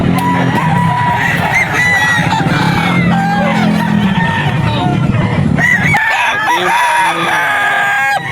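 A young rooster crows loudly and close by at a busy pet market, with other fowl calling and faint talk in the background.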